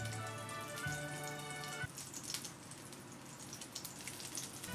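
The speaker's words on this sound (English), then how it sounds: "Place the whole prawns on the pan and then add a scoop of prawn filling on top. Cook until they're golden brown and then flip them." Prawn pancake (jeon) with whole prawns and a scoop of prawn filling frying in canola oil in a pan, giving a steady crackling sizzle like light rain, with a low hum in the first two seconds.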